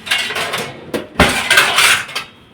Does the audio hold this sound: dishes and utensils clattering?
yes